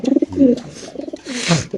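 Racer pigeons coo in a short series of soft, close, throaty calls with brief gaps between them.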